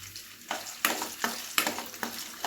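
Potato strips for homemade crispy French fries sizzle and crackle in hot oil, with a run of stronger bursts recurring every half second or so as they are stirred, close and steady with no talking.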